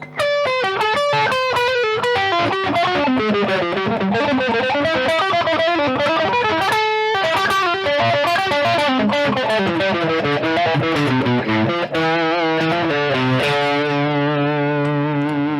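Loud overdriven Gordon Smith Classic S electric guitar on a split pickup, strumming chords and melodic runs with a gritty, saturated tone and a slightly brighter, thinner character, ending on a held chord.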